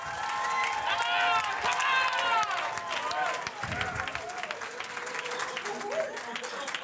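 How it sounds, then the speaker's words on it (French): Crowd at a live improv comedy show applauding and cheering, with clapping mixed with whoops, shouts and lively voices throughout, moderately loud and busy. "on leur donne une bonne main d'applaudissement"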